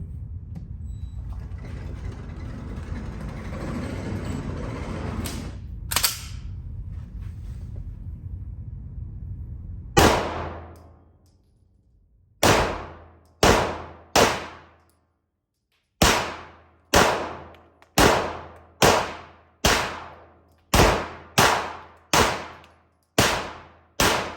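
Walther PDP pistol firing at an indoor range: after a stretch of steady background rumble, a sharp single shot rings out, then a series of loud, evenly spaced shots, each with a short ringing decay.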